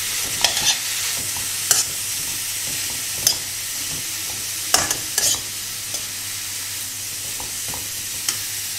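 Zucchini noodles and mixed vegetables stirred in a hot pan, a steady sizzle under repeated scraping spatula strokes, no talking.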